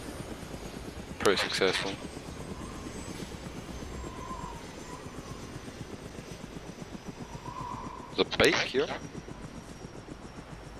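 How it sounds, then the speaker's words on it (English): Helicopter in the video game DayZ on the Namalsk map, a steady droning rotor and engine hum throughout, with people talking over it in two short bursts. "I landed the helicopter."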